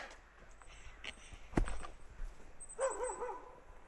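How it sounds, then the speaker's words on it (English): A dog barks from a nearby backyard by old cannery ruins at Taku Harbor, Alaska, a few fairly distant barks over outdoor footsteps and ambient rustle. "I hear their dog barking at us"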